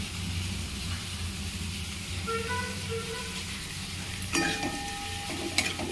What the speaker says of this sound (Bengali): মাছগুলো দিয়ে একটু নেড়ে নিচ্ছি